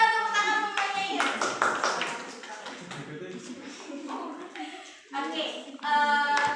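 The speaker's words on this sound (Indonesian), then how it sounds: "Tepuk tangan semuanya ya." A classroom of students claps hands together, bursts of applause broken by short pauses, with a teacher and children talking between and over the clapping.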